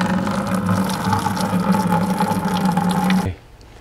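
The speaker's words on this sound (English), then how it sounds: "we're going to start out by putting 1 gallon of water" Water poured into a primary fermenter bucket while starting a home wine kit, a steady loud gushing rush for about three seconds that stops abruptly, leaving near silence.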